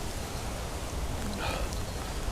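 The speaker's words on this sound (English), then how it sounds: "It's a bit of a hailstorm now." Hail falling steadily in a pine woodland, a dense continuous patter of ice pellets on trees and ground with no break, nearby and fairly loud throughout.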